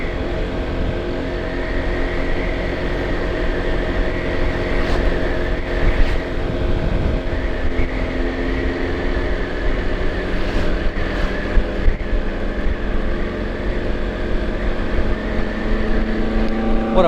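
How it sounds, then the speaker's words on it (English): Scooter engine straining uphill on a road in Bali, a steady loud drone with rising and falling tones and wind rush throughout, close to the rider. "you're not going to get a lot of acceleration out of your scooter if you're trying to pass something"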